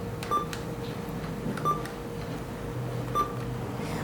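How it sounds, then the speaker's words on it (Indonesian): An ATM keypad gives three evenly spaced short electronic beeps, faint over a steady indoor hum, with no talking. "kita langsung ke mesin ATM dan pilih Digi Mobile."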